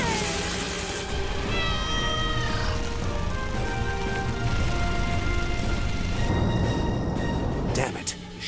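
A cat meows in a few drawn-out, rising cries over a noisy, hissing background, with a brief clatter near the end.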